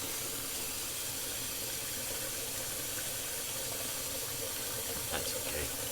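Water runs steadily from a sink tap while a safety razor is rinsed, a close, continuous hissing splash with a few light clinks near the end.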